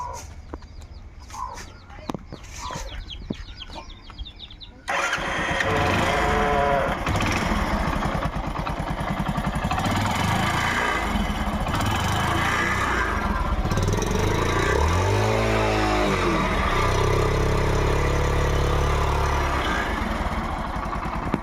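A used Hero Passion motorcycle with its engine running: after about five seconds of quiet background, a loud, steady engine drone starts and holds to the end, close to the listener.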